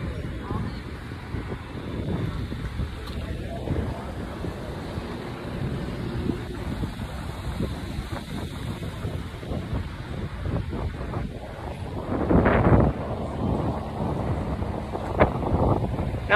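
Ocean surf and wind at Delray Beach roar steadily, with waves surging and breaking louder toward the end and gusts buffeting the microphone.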